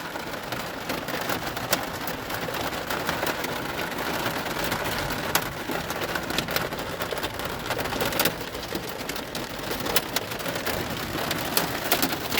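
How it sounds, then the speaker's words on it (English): Dense, steady pattering of hail falling in a thunderstorm, striking surfaces with sharp scattered impacts and a low rumble beneath, constant throughout. "it's making it sound like it's probably hail."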